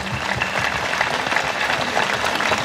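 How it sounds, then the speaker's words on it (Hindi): A church congregation at a festive Mass in Bendora claps in sustained, dense applause, steady and fairly close throughout with no break. "जोर से बजाइए, जोरदार ताली बजती रहनी चाहिए।"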